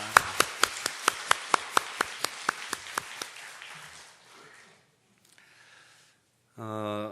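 A church congregation claps together in slow, even unison, about a dozen sharp synchronized claps that fade into scattered clapping and then quiet, before a voice begins speaking.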